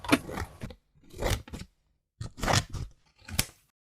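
Scissors cut out a paper craft frame: four separate short crunching snips come close and distinct, with brief silences between them.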